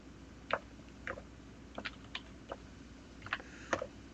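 Keys tapped on a computer keyboard in short, irregular clusters of clicks, close and fairly quiet, with small pauses between bursts.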